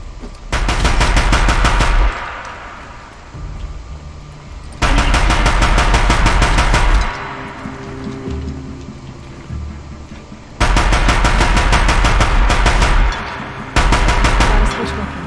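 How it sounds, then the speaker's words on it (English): Heavy automatic gunfire from a Deathbringer gun in the video game Horizon Zero Dawn, loud rapid bursts of a few seconds each with brief quieter gaps between them, no talking. "I got a Deathbringer gun"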